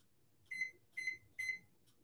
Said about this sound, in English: And I'll set the kitchen timer for 20 minutes.